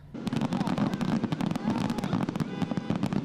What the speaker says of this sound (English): the largest fireworks show in the Rose Bowl's 92-year history